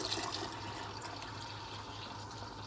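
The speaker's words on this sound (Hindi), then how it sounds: "हम इसमें एक्स्ट्रा पानी शामिल करते हैं।" Water pours steadily into a pot of Lahori-style kadhi with koftas, a continuous close splashing fill with no voices.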